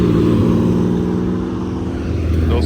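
A Lamborghini Countach supercar drives close by, its engine a loud, continuous roar that holds steady for a few seconds and dips slightly midway, with no voices.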